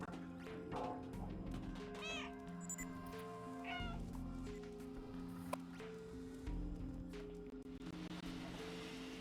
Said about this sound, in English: We meow here to distract the sentry.